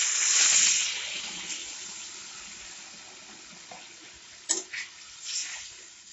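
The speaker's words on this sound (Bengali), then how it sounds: "এবার এতে 3 কাপ জল অ্যাড করবো।" Water poured into a pan of simmering fish curry with drumsticks, a steady splashing pour at first that fades, then a few brief clinks and splashes near the end.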